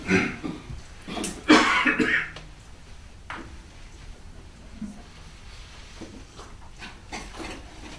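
A man with a pollen allergy coughs a few times in a quiet indoor lecture on Buddhism, with harsh bursts early on and then faint rustling and small clicks.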